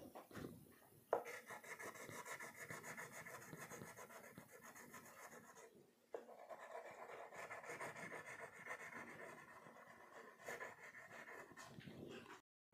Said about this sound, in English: Slowly, slowly, you will color it. Now we will use a brown crayon.